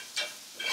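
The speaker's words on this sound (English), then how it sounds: "You want to stir that around." Seasoned steak meat stirred in a cast iron pan for pepper steak, two brief scraping sweeps over a steady hot sizzle, close and fairly quiet.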